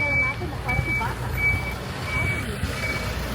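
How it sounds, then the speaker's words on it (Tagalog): A truck close behind a car sounds its reversing alarm, a high electronic beep repeating about five times at an even pace over a low engine rumble, with voices faintly in the background. "May truck sa likod natin."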